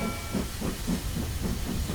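A cartoon train pulling in with a steady hiss of steam over rhythmic low chugging pulses, moderately loud and continuous without talk.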